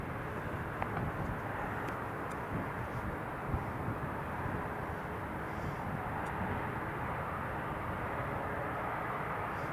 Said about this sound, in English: Emirates is on final